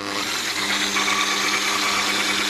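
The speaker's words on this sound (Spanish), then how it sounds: "Ya tengo por aquí la leche evaporada muy fría, muy fría. Así que la voy a batir durante 1 minuto" An electric hand mixer whirs steadily as it beats very cold evaporated milk for a chilled Peruvian cake, a constant close motor drone with a bright buzzing whine and no talking.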